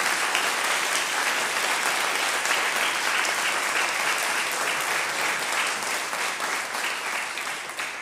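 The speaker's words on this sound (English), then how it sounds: "They deserve a round of applause." A large audience claps steadily and fairly loudly for a search committee, a dense uninterrupted wash of applause lasting eight seconds that tapers slightly at the end.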